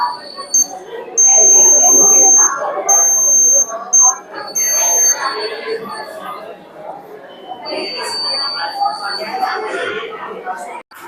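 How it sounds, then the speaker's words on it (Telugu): A buzzer on a student science-fair proximity alarm project sounds as an object comes close: several loud, steady electronic beeps of varying length, repeating intermittently over crowd chatter and a nearby voice talking in a busy exhibition hall. "ఒకవేళ ఆబ్జెక్ట్ అనేది మరి క్లోజ్ దగ్గరకు వచ్చిందనుకో రెడ్ లైట్ అని బజర్ ఈ రెండు ఆన్ అయిపోతాయి"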